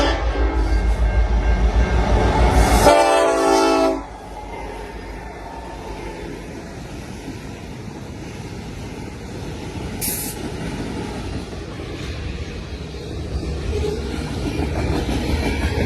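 CN M303, a freight train with Dash 8 locomotives behind EMD power, rolls past. A loud, close rumble with a shrill metallic squeal fades after a few seconds into a steadier, quieter rolling drone.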